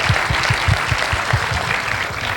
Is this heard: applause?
yes